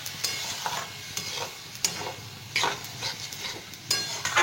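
Soaked red masoor lentils stirred into spices frying in oil in a pan for dal tarka: a continuous close sizzle with repeated scraping spoon strokes every second or so, and no voices.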